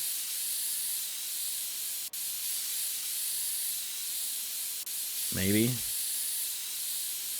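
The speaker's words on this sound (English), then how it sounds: "Let's grab our compressed air. See if we can't blast this out." Compressed air blasts dust out of a PC inside a computer-building game, a steady loud hiss that holds throughout, with a short spoken word near the end.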